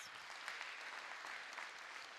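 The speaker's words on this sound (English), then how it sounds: "please, a round of applause for them, please" Guests of honor at a graduation ceremony receive soft, distant applause, an even wash of many hands clapping at low volume throughout.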